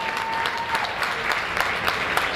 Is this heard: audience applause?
yes